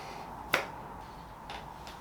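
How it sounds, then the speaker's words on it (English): A single sharp finger snap rings out close and crisp, followed by a couple of fainter clicks in an otherwise quiet room. "snap my fingers"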